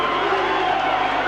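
Stadium crowd at a 1988 rugby league match between New Zealand and the Broncos in Brisbane, a loud, dense roar of cheering as the New Zealand side takes the field.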